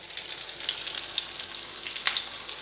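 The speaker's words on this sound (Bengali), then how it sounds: "ওদের এই জন্যে মশলা মাখিয়ে ভাজা করতে বসানো হয়েছে" Bhetki fish coated in spices fries in hot oil in a pan, a close, continuous bright sizzle with small pops and crackles scattered through it and no talking.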